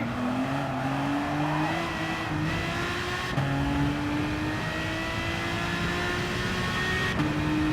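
A car engine accelerating hard, pitch climbing through several quick gear shifts, loud and close with no talking.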